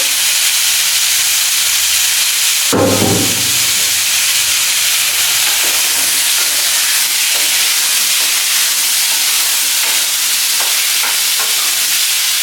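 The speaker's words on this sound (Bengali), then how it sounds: "তো তেলটা গরম হয়ে গেছে, এবার আমি তেলটার মধ্যে আলুগুলো দিয়ে দেবো।" Potato pieces sizzle loudly in hot oil right after going into the pan, a dense continuous hiss with a sharp burst at the drop and faint stirring clicks throughout.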